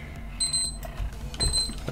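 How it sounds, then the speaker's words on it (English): An alarm clock rings in two short bursts of bright, high electronic beeping, separated by a brief gap, over low background rumble. "That's my alarm."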